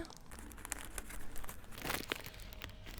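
Plastic and paper packaging crinkles and tears as a Maybelline cosmetics parcel is opened, with close, irregular rustling bursts and a louder crackle near the middle.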